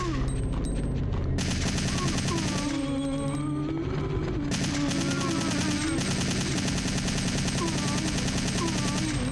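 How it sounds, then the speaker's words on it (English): Rapid assault rifle fire rattles continuously in Resident Evil 3: Nemesis from 1999, loud steady automatic bursts mixed with game music and effects, with no pause across the stretch. "Zombies are no match for pure assault rifle firepower."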